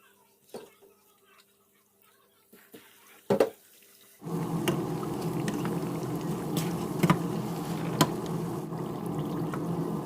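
Banana coated in rice-flour batter deep-frying in hot oil, a steady dense sizzle that starts abruptly partway through and continues loud with crackles, after a few quiet knocks and clatters.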